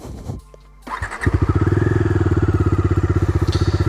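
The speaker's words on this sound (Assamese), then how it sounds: "বাকী বাইকখনৰ এক্সজষ্ট নটটো শুনাই আছোঁ" A 2022 Bajaj Dominar 250 BS6 single-cylinder 250cc motorcycle starts up close by and settles into a loud, rapid, evenly pulsing idle exhaust thump that holds steady to the end.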